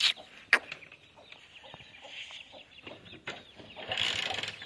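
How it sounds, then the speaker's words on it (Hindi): Aseel hens clucking near their newly hatched chicks, with a few sharp calls at the start and brief bursts of soft clucking and chick peeps throughout, fairly close and moderately loud, with no talking. "मुर्गियों ने, असील मुर्गियों ने बच्चे निकाले हुए हैं दोस्तों"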